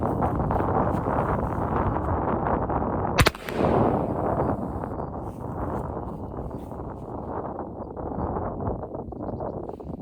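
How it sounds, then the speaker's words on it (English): A single loud gunshot fired outdoors with homemade black powder at a cardboard target cracks out sharply amid constant gusty wind noise on the microphone. "just got a piece of cardboard tacked up over here to shoot at. See if this powder goes off."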